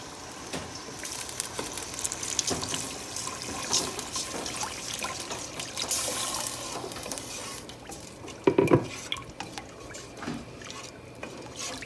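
Water hits a hot pan of browning garlic with a hissing, bubbling rush, steady sizzle continuing, with a louder splashy burst near the end.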